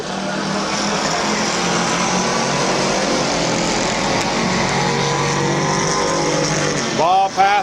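Race cars roar around Midvale Speedway in a steady, loud wash of engine noise, with a commentator's voice calling the action over the top throughout.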